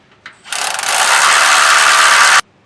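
A power tool runs bolts into the mounting holes while a Curt E16 fifth-wheel hitch is installed on a 2019 Ram 2500: a loud, close, continuous buzzing ratchet burst of about two seconds after a couple of short clicks.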